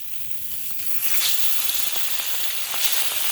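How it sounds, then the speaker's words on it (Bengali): Fish rubbed with turmeric, salt and chilli frying in hot oil in a pan, a loud, bright continuous sizzle that swells slightly partway through, close and alone. "মাছগুলোকেও আমি ভেজে নিব, হলুদ লবণ মরিচ দিয়ে মেখে নিয়েছি"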